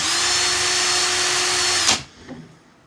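A power drill whines steadily while spinning coil wire held in its chuck. The loud, even motor tone cuts off abruptly near the end and spins down into quiet, with a faint rattle afterward.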